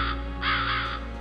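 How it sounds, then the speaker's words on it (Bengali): A crow caws outside in two or three harsh, close calls over a steady low musical drone, used as a story sound effect. "বাইরে কোথাও যেন কাকও ডেকে উঠল।"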